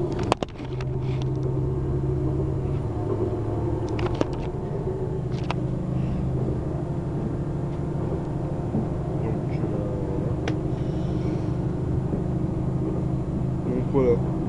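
An X73700 diesel railcar accelerating on a rural line near a national road, its engine a steady droning rumble heard from inside, with a few sharp knocks and someone speaking over it.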